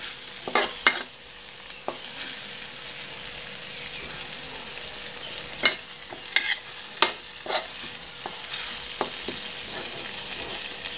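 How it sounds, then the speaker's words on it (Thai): Chili and garlic stir-fry in a pan for clams with chili paste, a steady soft sizzle broken by several sharp clinks and scrapes of the spatula, close and moderately quiet with no talking. "ผัดเลยครับ ผัดพริกเลยครับคนพริกเลยครับ"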